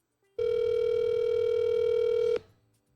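A steady telephone tone sounds as a call is placed to an old friend. It is one loud, even electronic hum that holds for about two seconds and then cuts off abruptly, with no talking.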